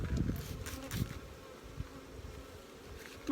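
Honeybees buzz steadily around an open, queenless hive in a close, continuous drone, with a few louder passes as individual bees fly near.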